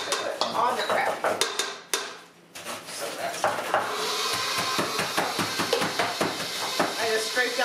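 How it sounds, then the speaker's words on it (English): Kitchen clatter of a spatula scraping down a bowl of peppermint sugar cookie dough, with scattered clinks and knocks against the bowl, moderately loud and close, steady throughout apart from a brief lull near the two-second mark. "I just scraped down the bowl here on my cookie dough."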